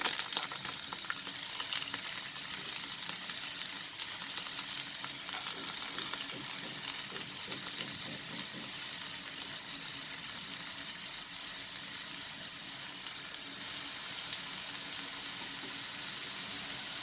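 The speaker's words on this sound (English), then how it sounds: "I'll saute it upon a medium flame." Chopped onion and green chillies sizzle steadily in a pan over a medium flame, a continuous dense frying hiss with faint stirring scrapes, no talking.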